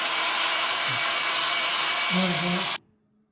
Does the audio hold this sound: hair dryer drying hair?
yes